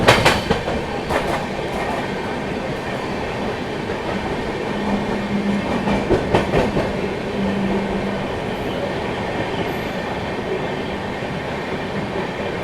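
The Chennai Duronto Express running through Nellore station without stopping, heard from inside a sleeper class coach as a loud, steady rumble with rhythmic clickety-clack of wheels over rail joints.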